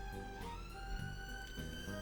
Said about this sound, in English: Sirens coming towards my window now.